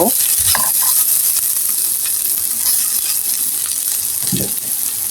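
Browned onions fry in a pan with a cinnamon stick and two bay leaves, a continuous close sizzle broken by a few scraping stirs of a spatula, with no talking.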